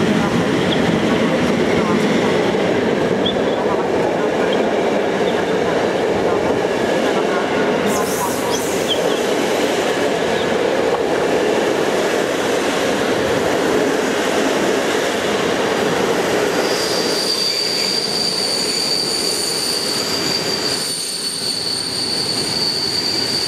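A passenger train arrives at a station platform in Poland, its heavy rolling rumble loud and continuous, with high wheel squeals rising near the end and a station announcement heard under it.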